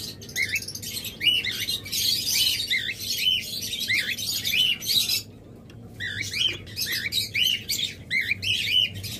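Two cockatiels chirp in quick, repeated tweets and short squawks, close and fairly loud, with a brief lull midway before the calls resume over a low background hum.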